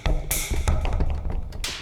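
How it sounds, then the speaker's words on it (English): A few short velocity-sensitive synth notes from the Omnisphere Bob Moog Tribute Library struck on a MIDI keyboard, percussive with bright bursts, several quick hits at varying loudness with no voices. "So I just have a play on the MIDI keyboard"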